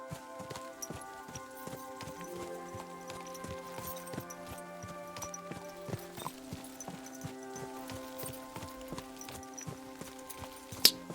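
Horse hooves clip-clop steadily at a walking pace while riding in the medieval role-playing game Kingdom Come: Deliverance II, a regular close rhythm of hoof strikes over a soft layered game soundscape.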